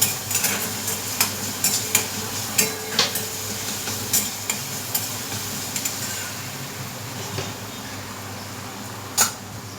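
Spatula stirring and scraping through vada pav filling in a pan over low heat, with soft sizzling underneath and a steady run of clicking, scraping strokes; no talking.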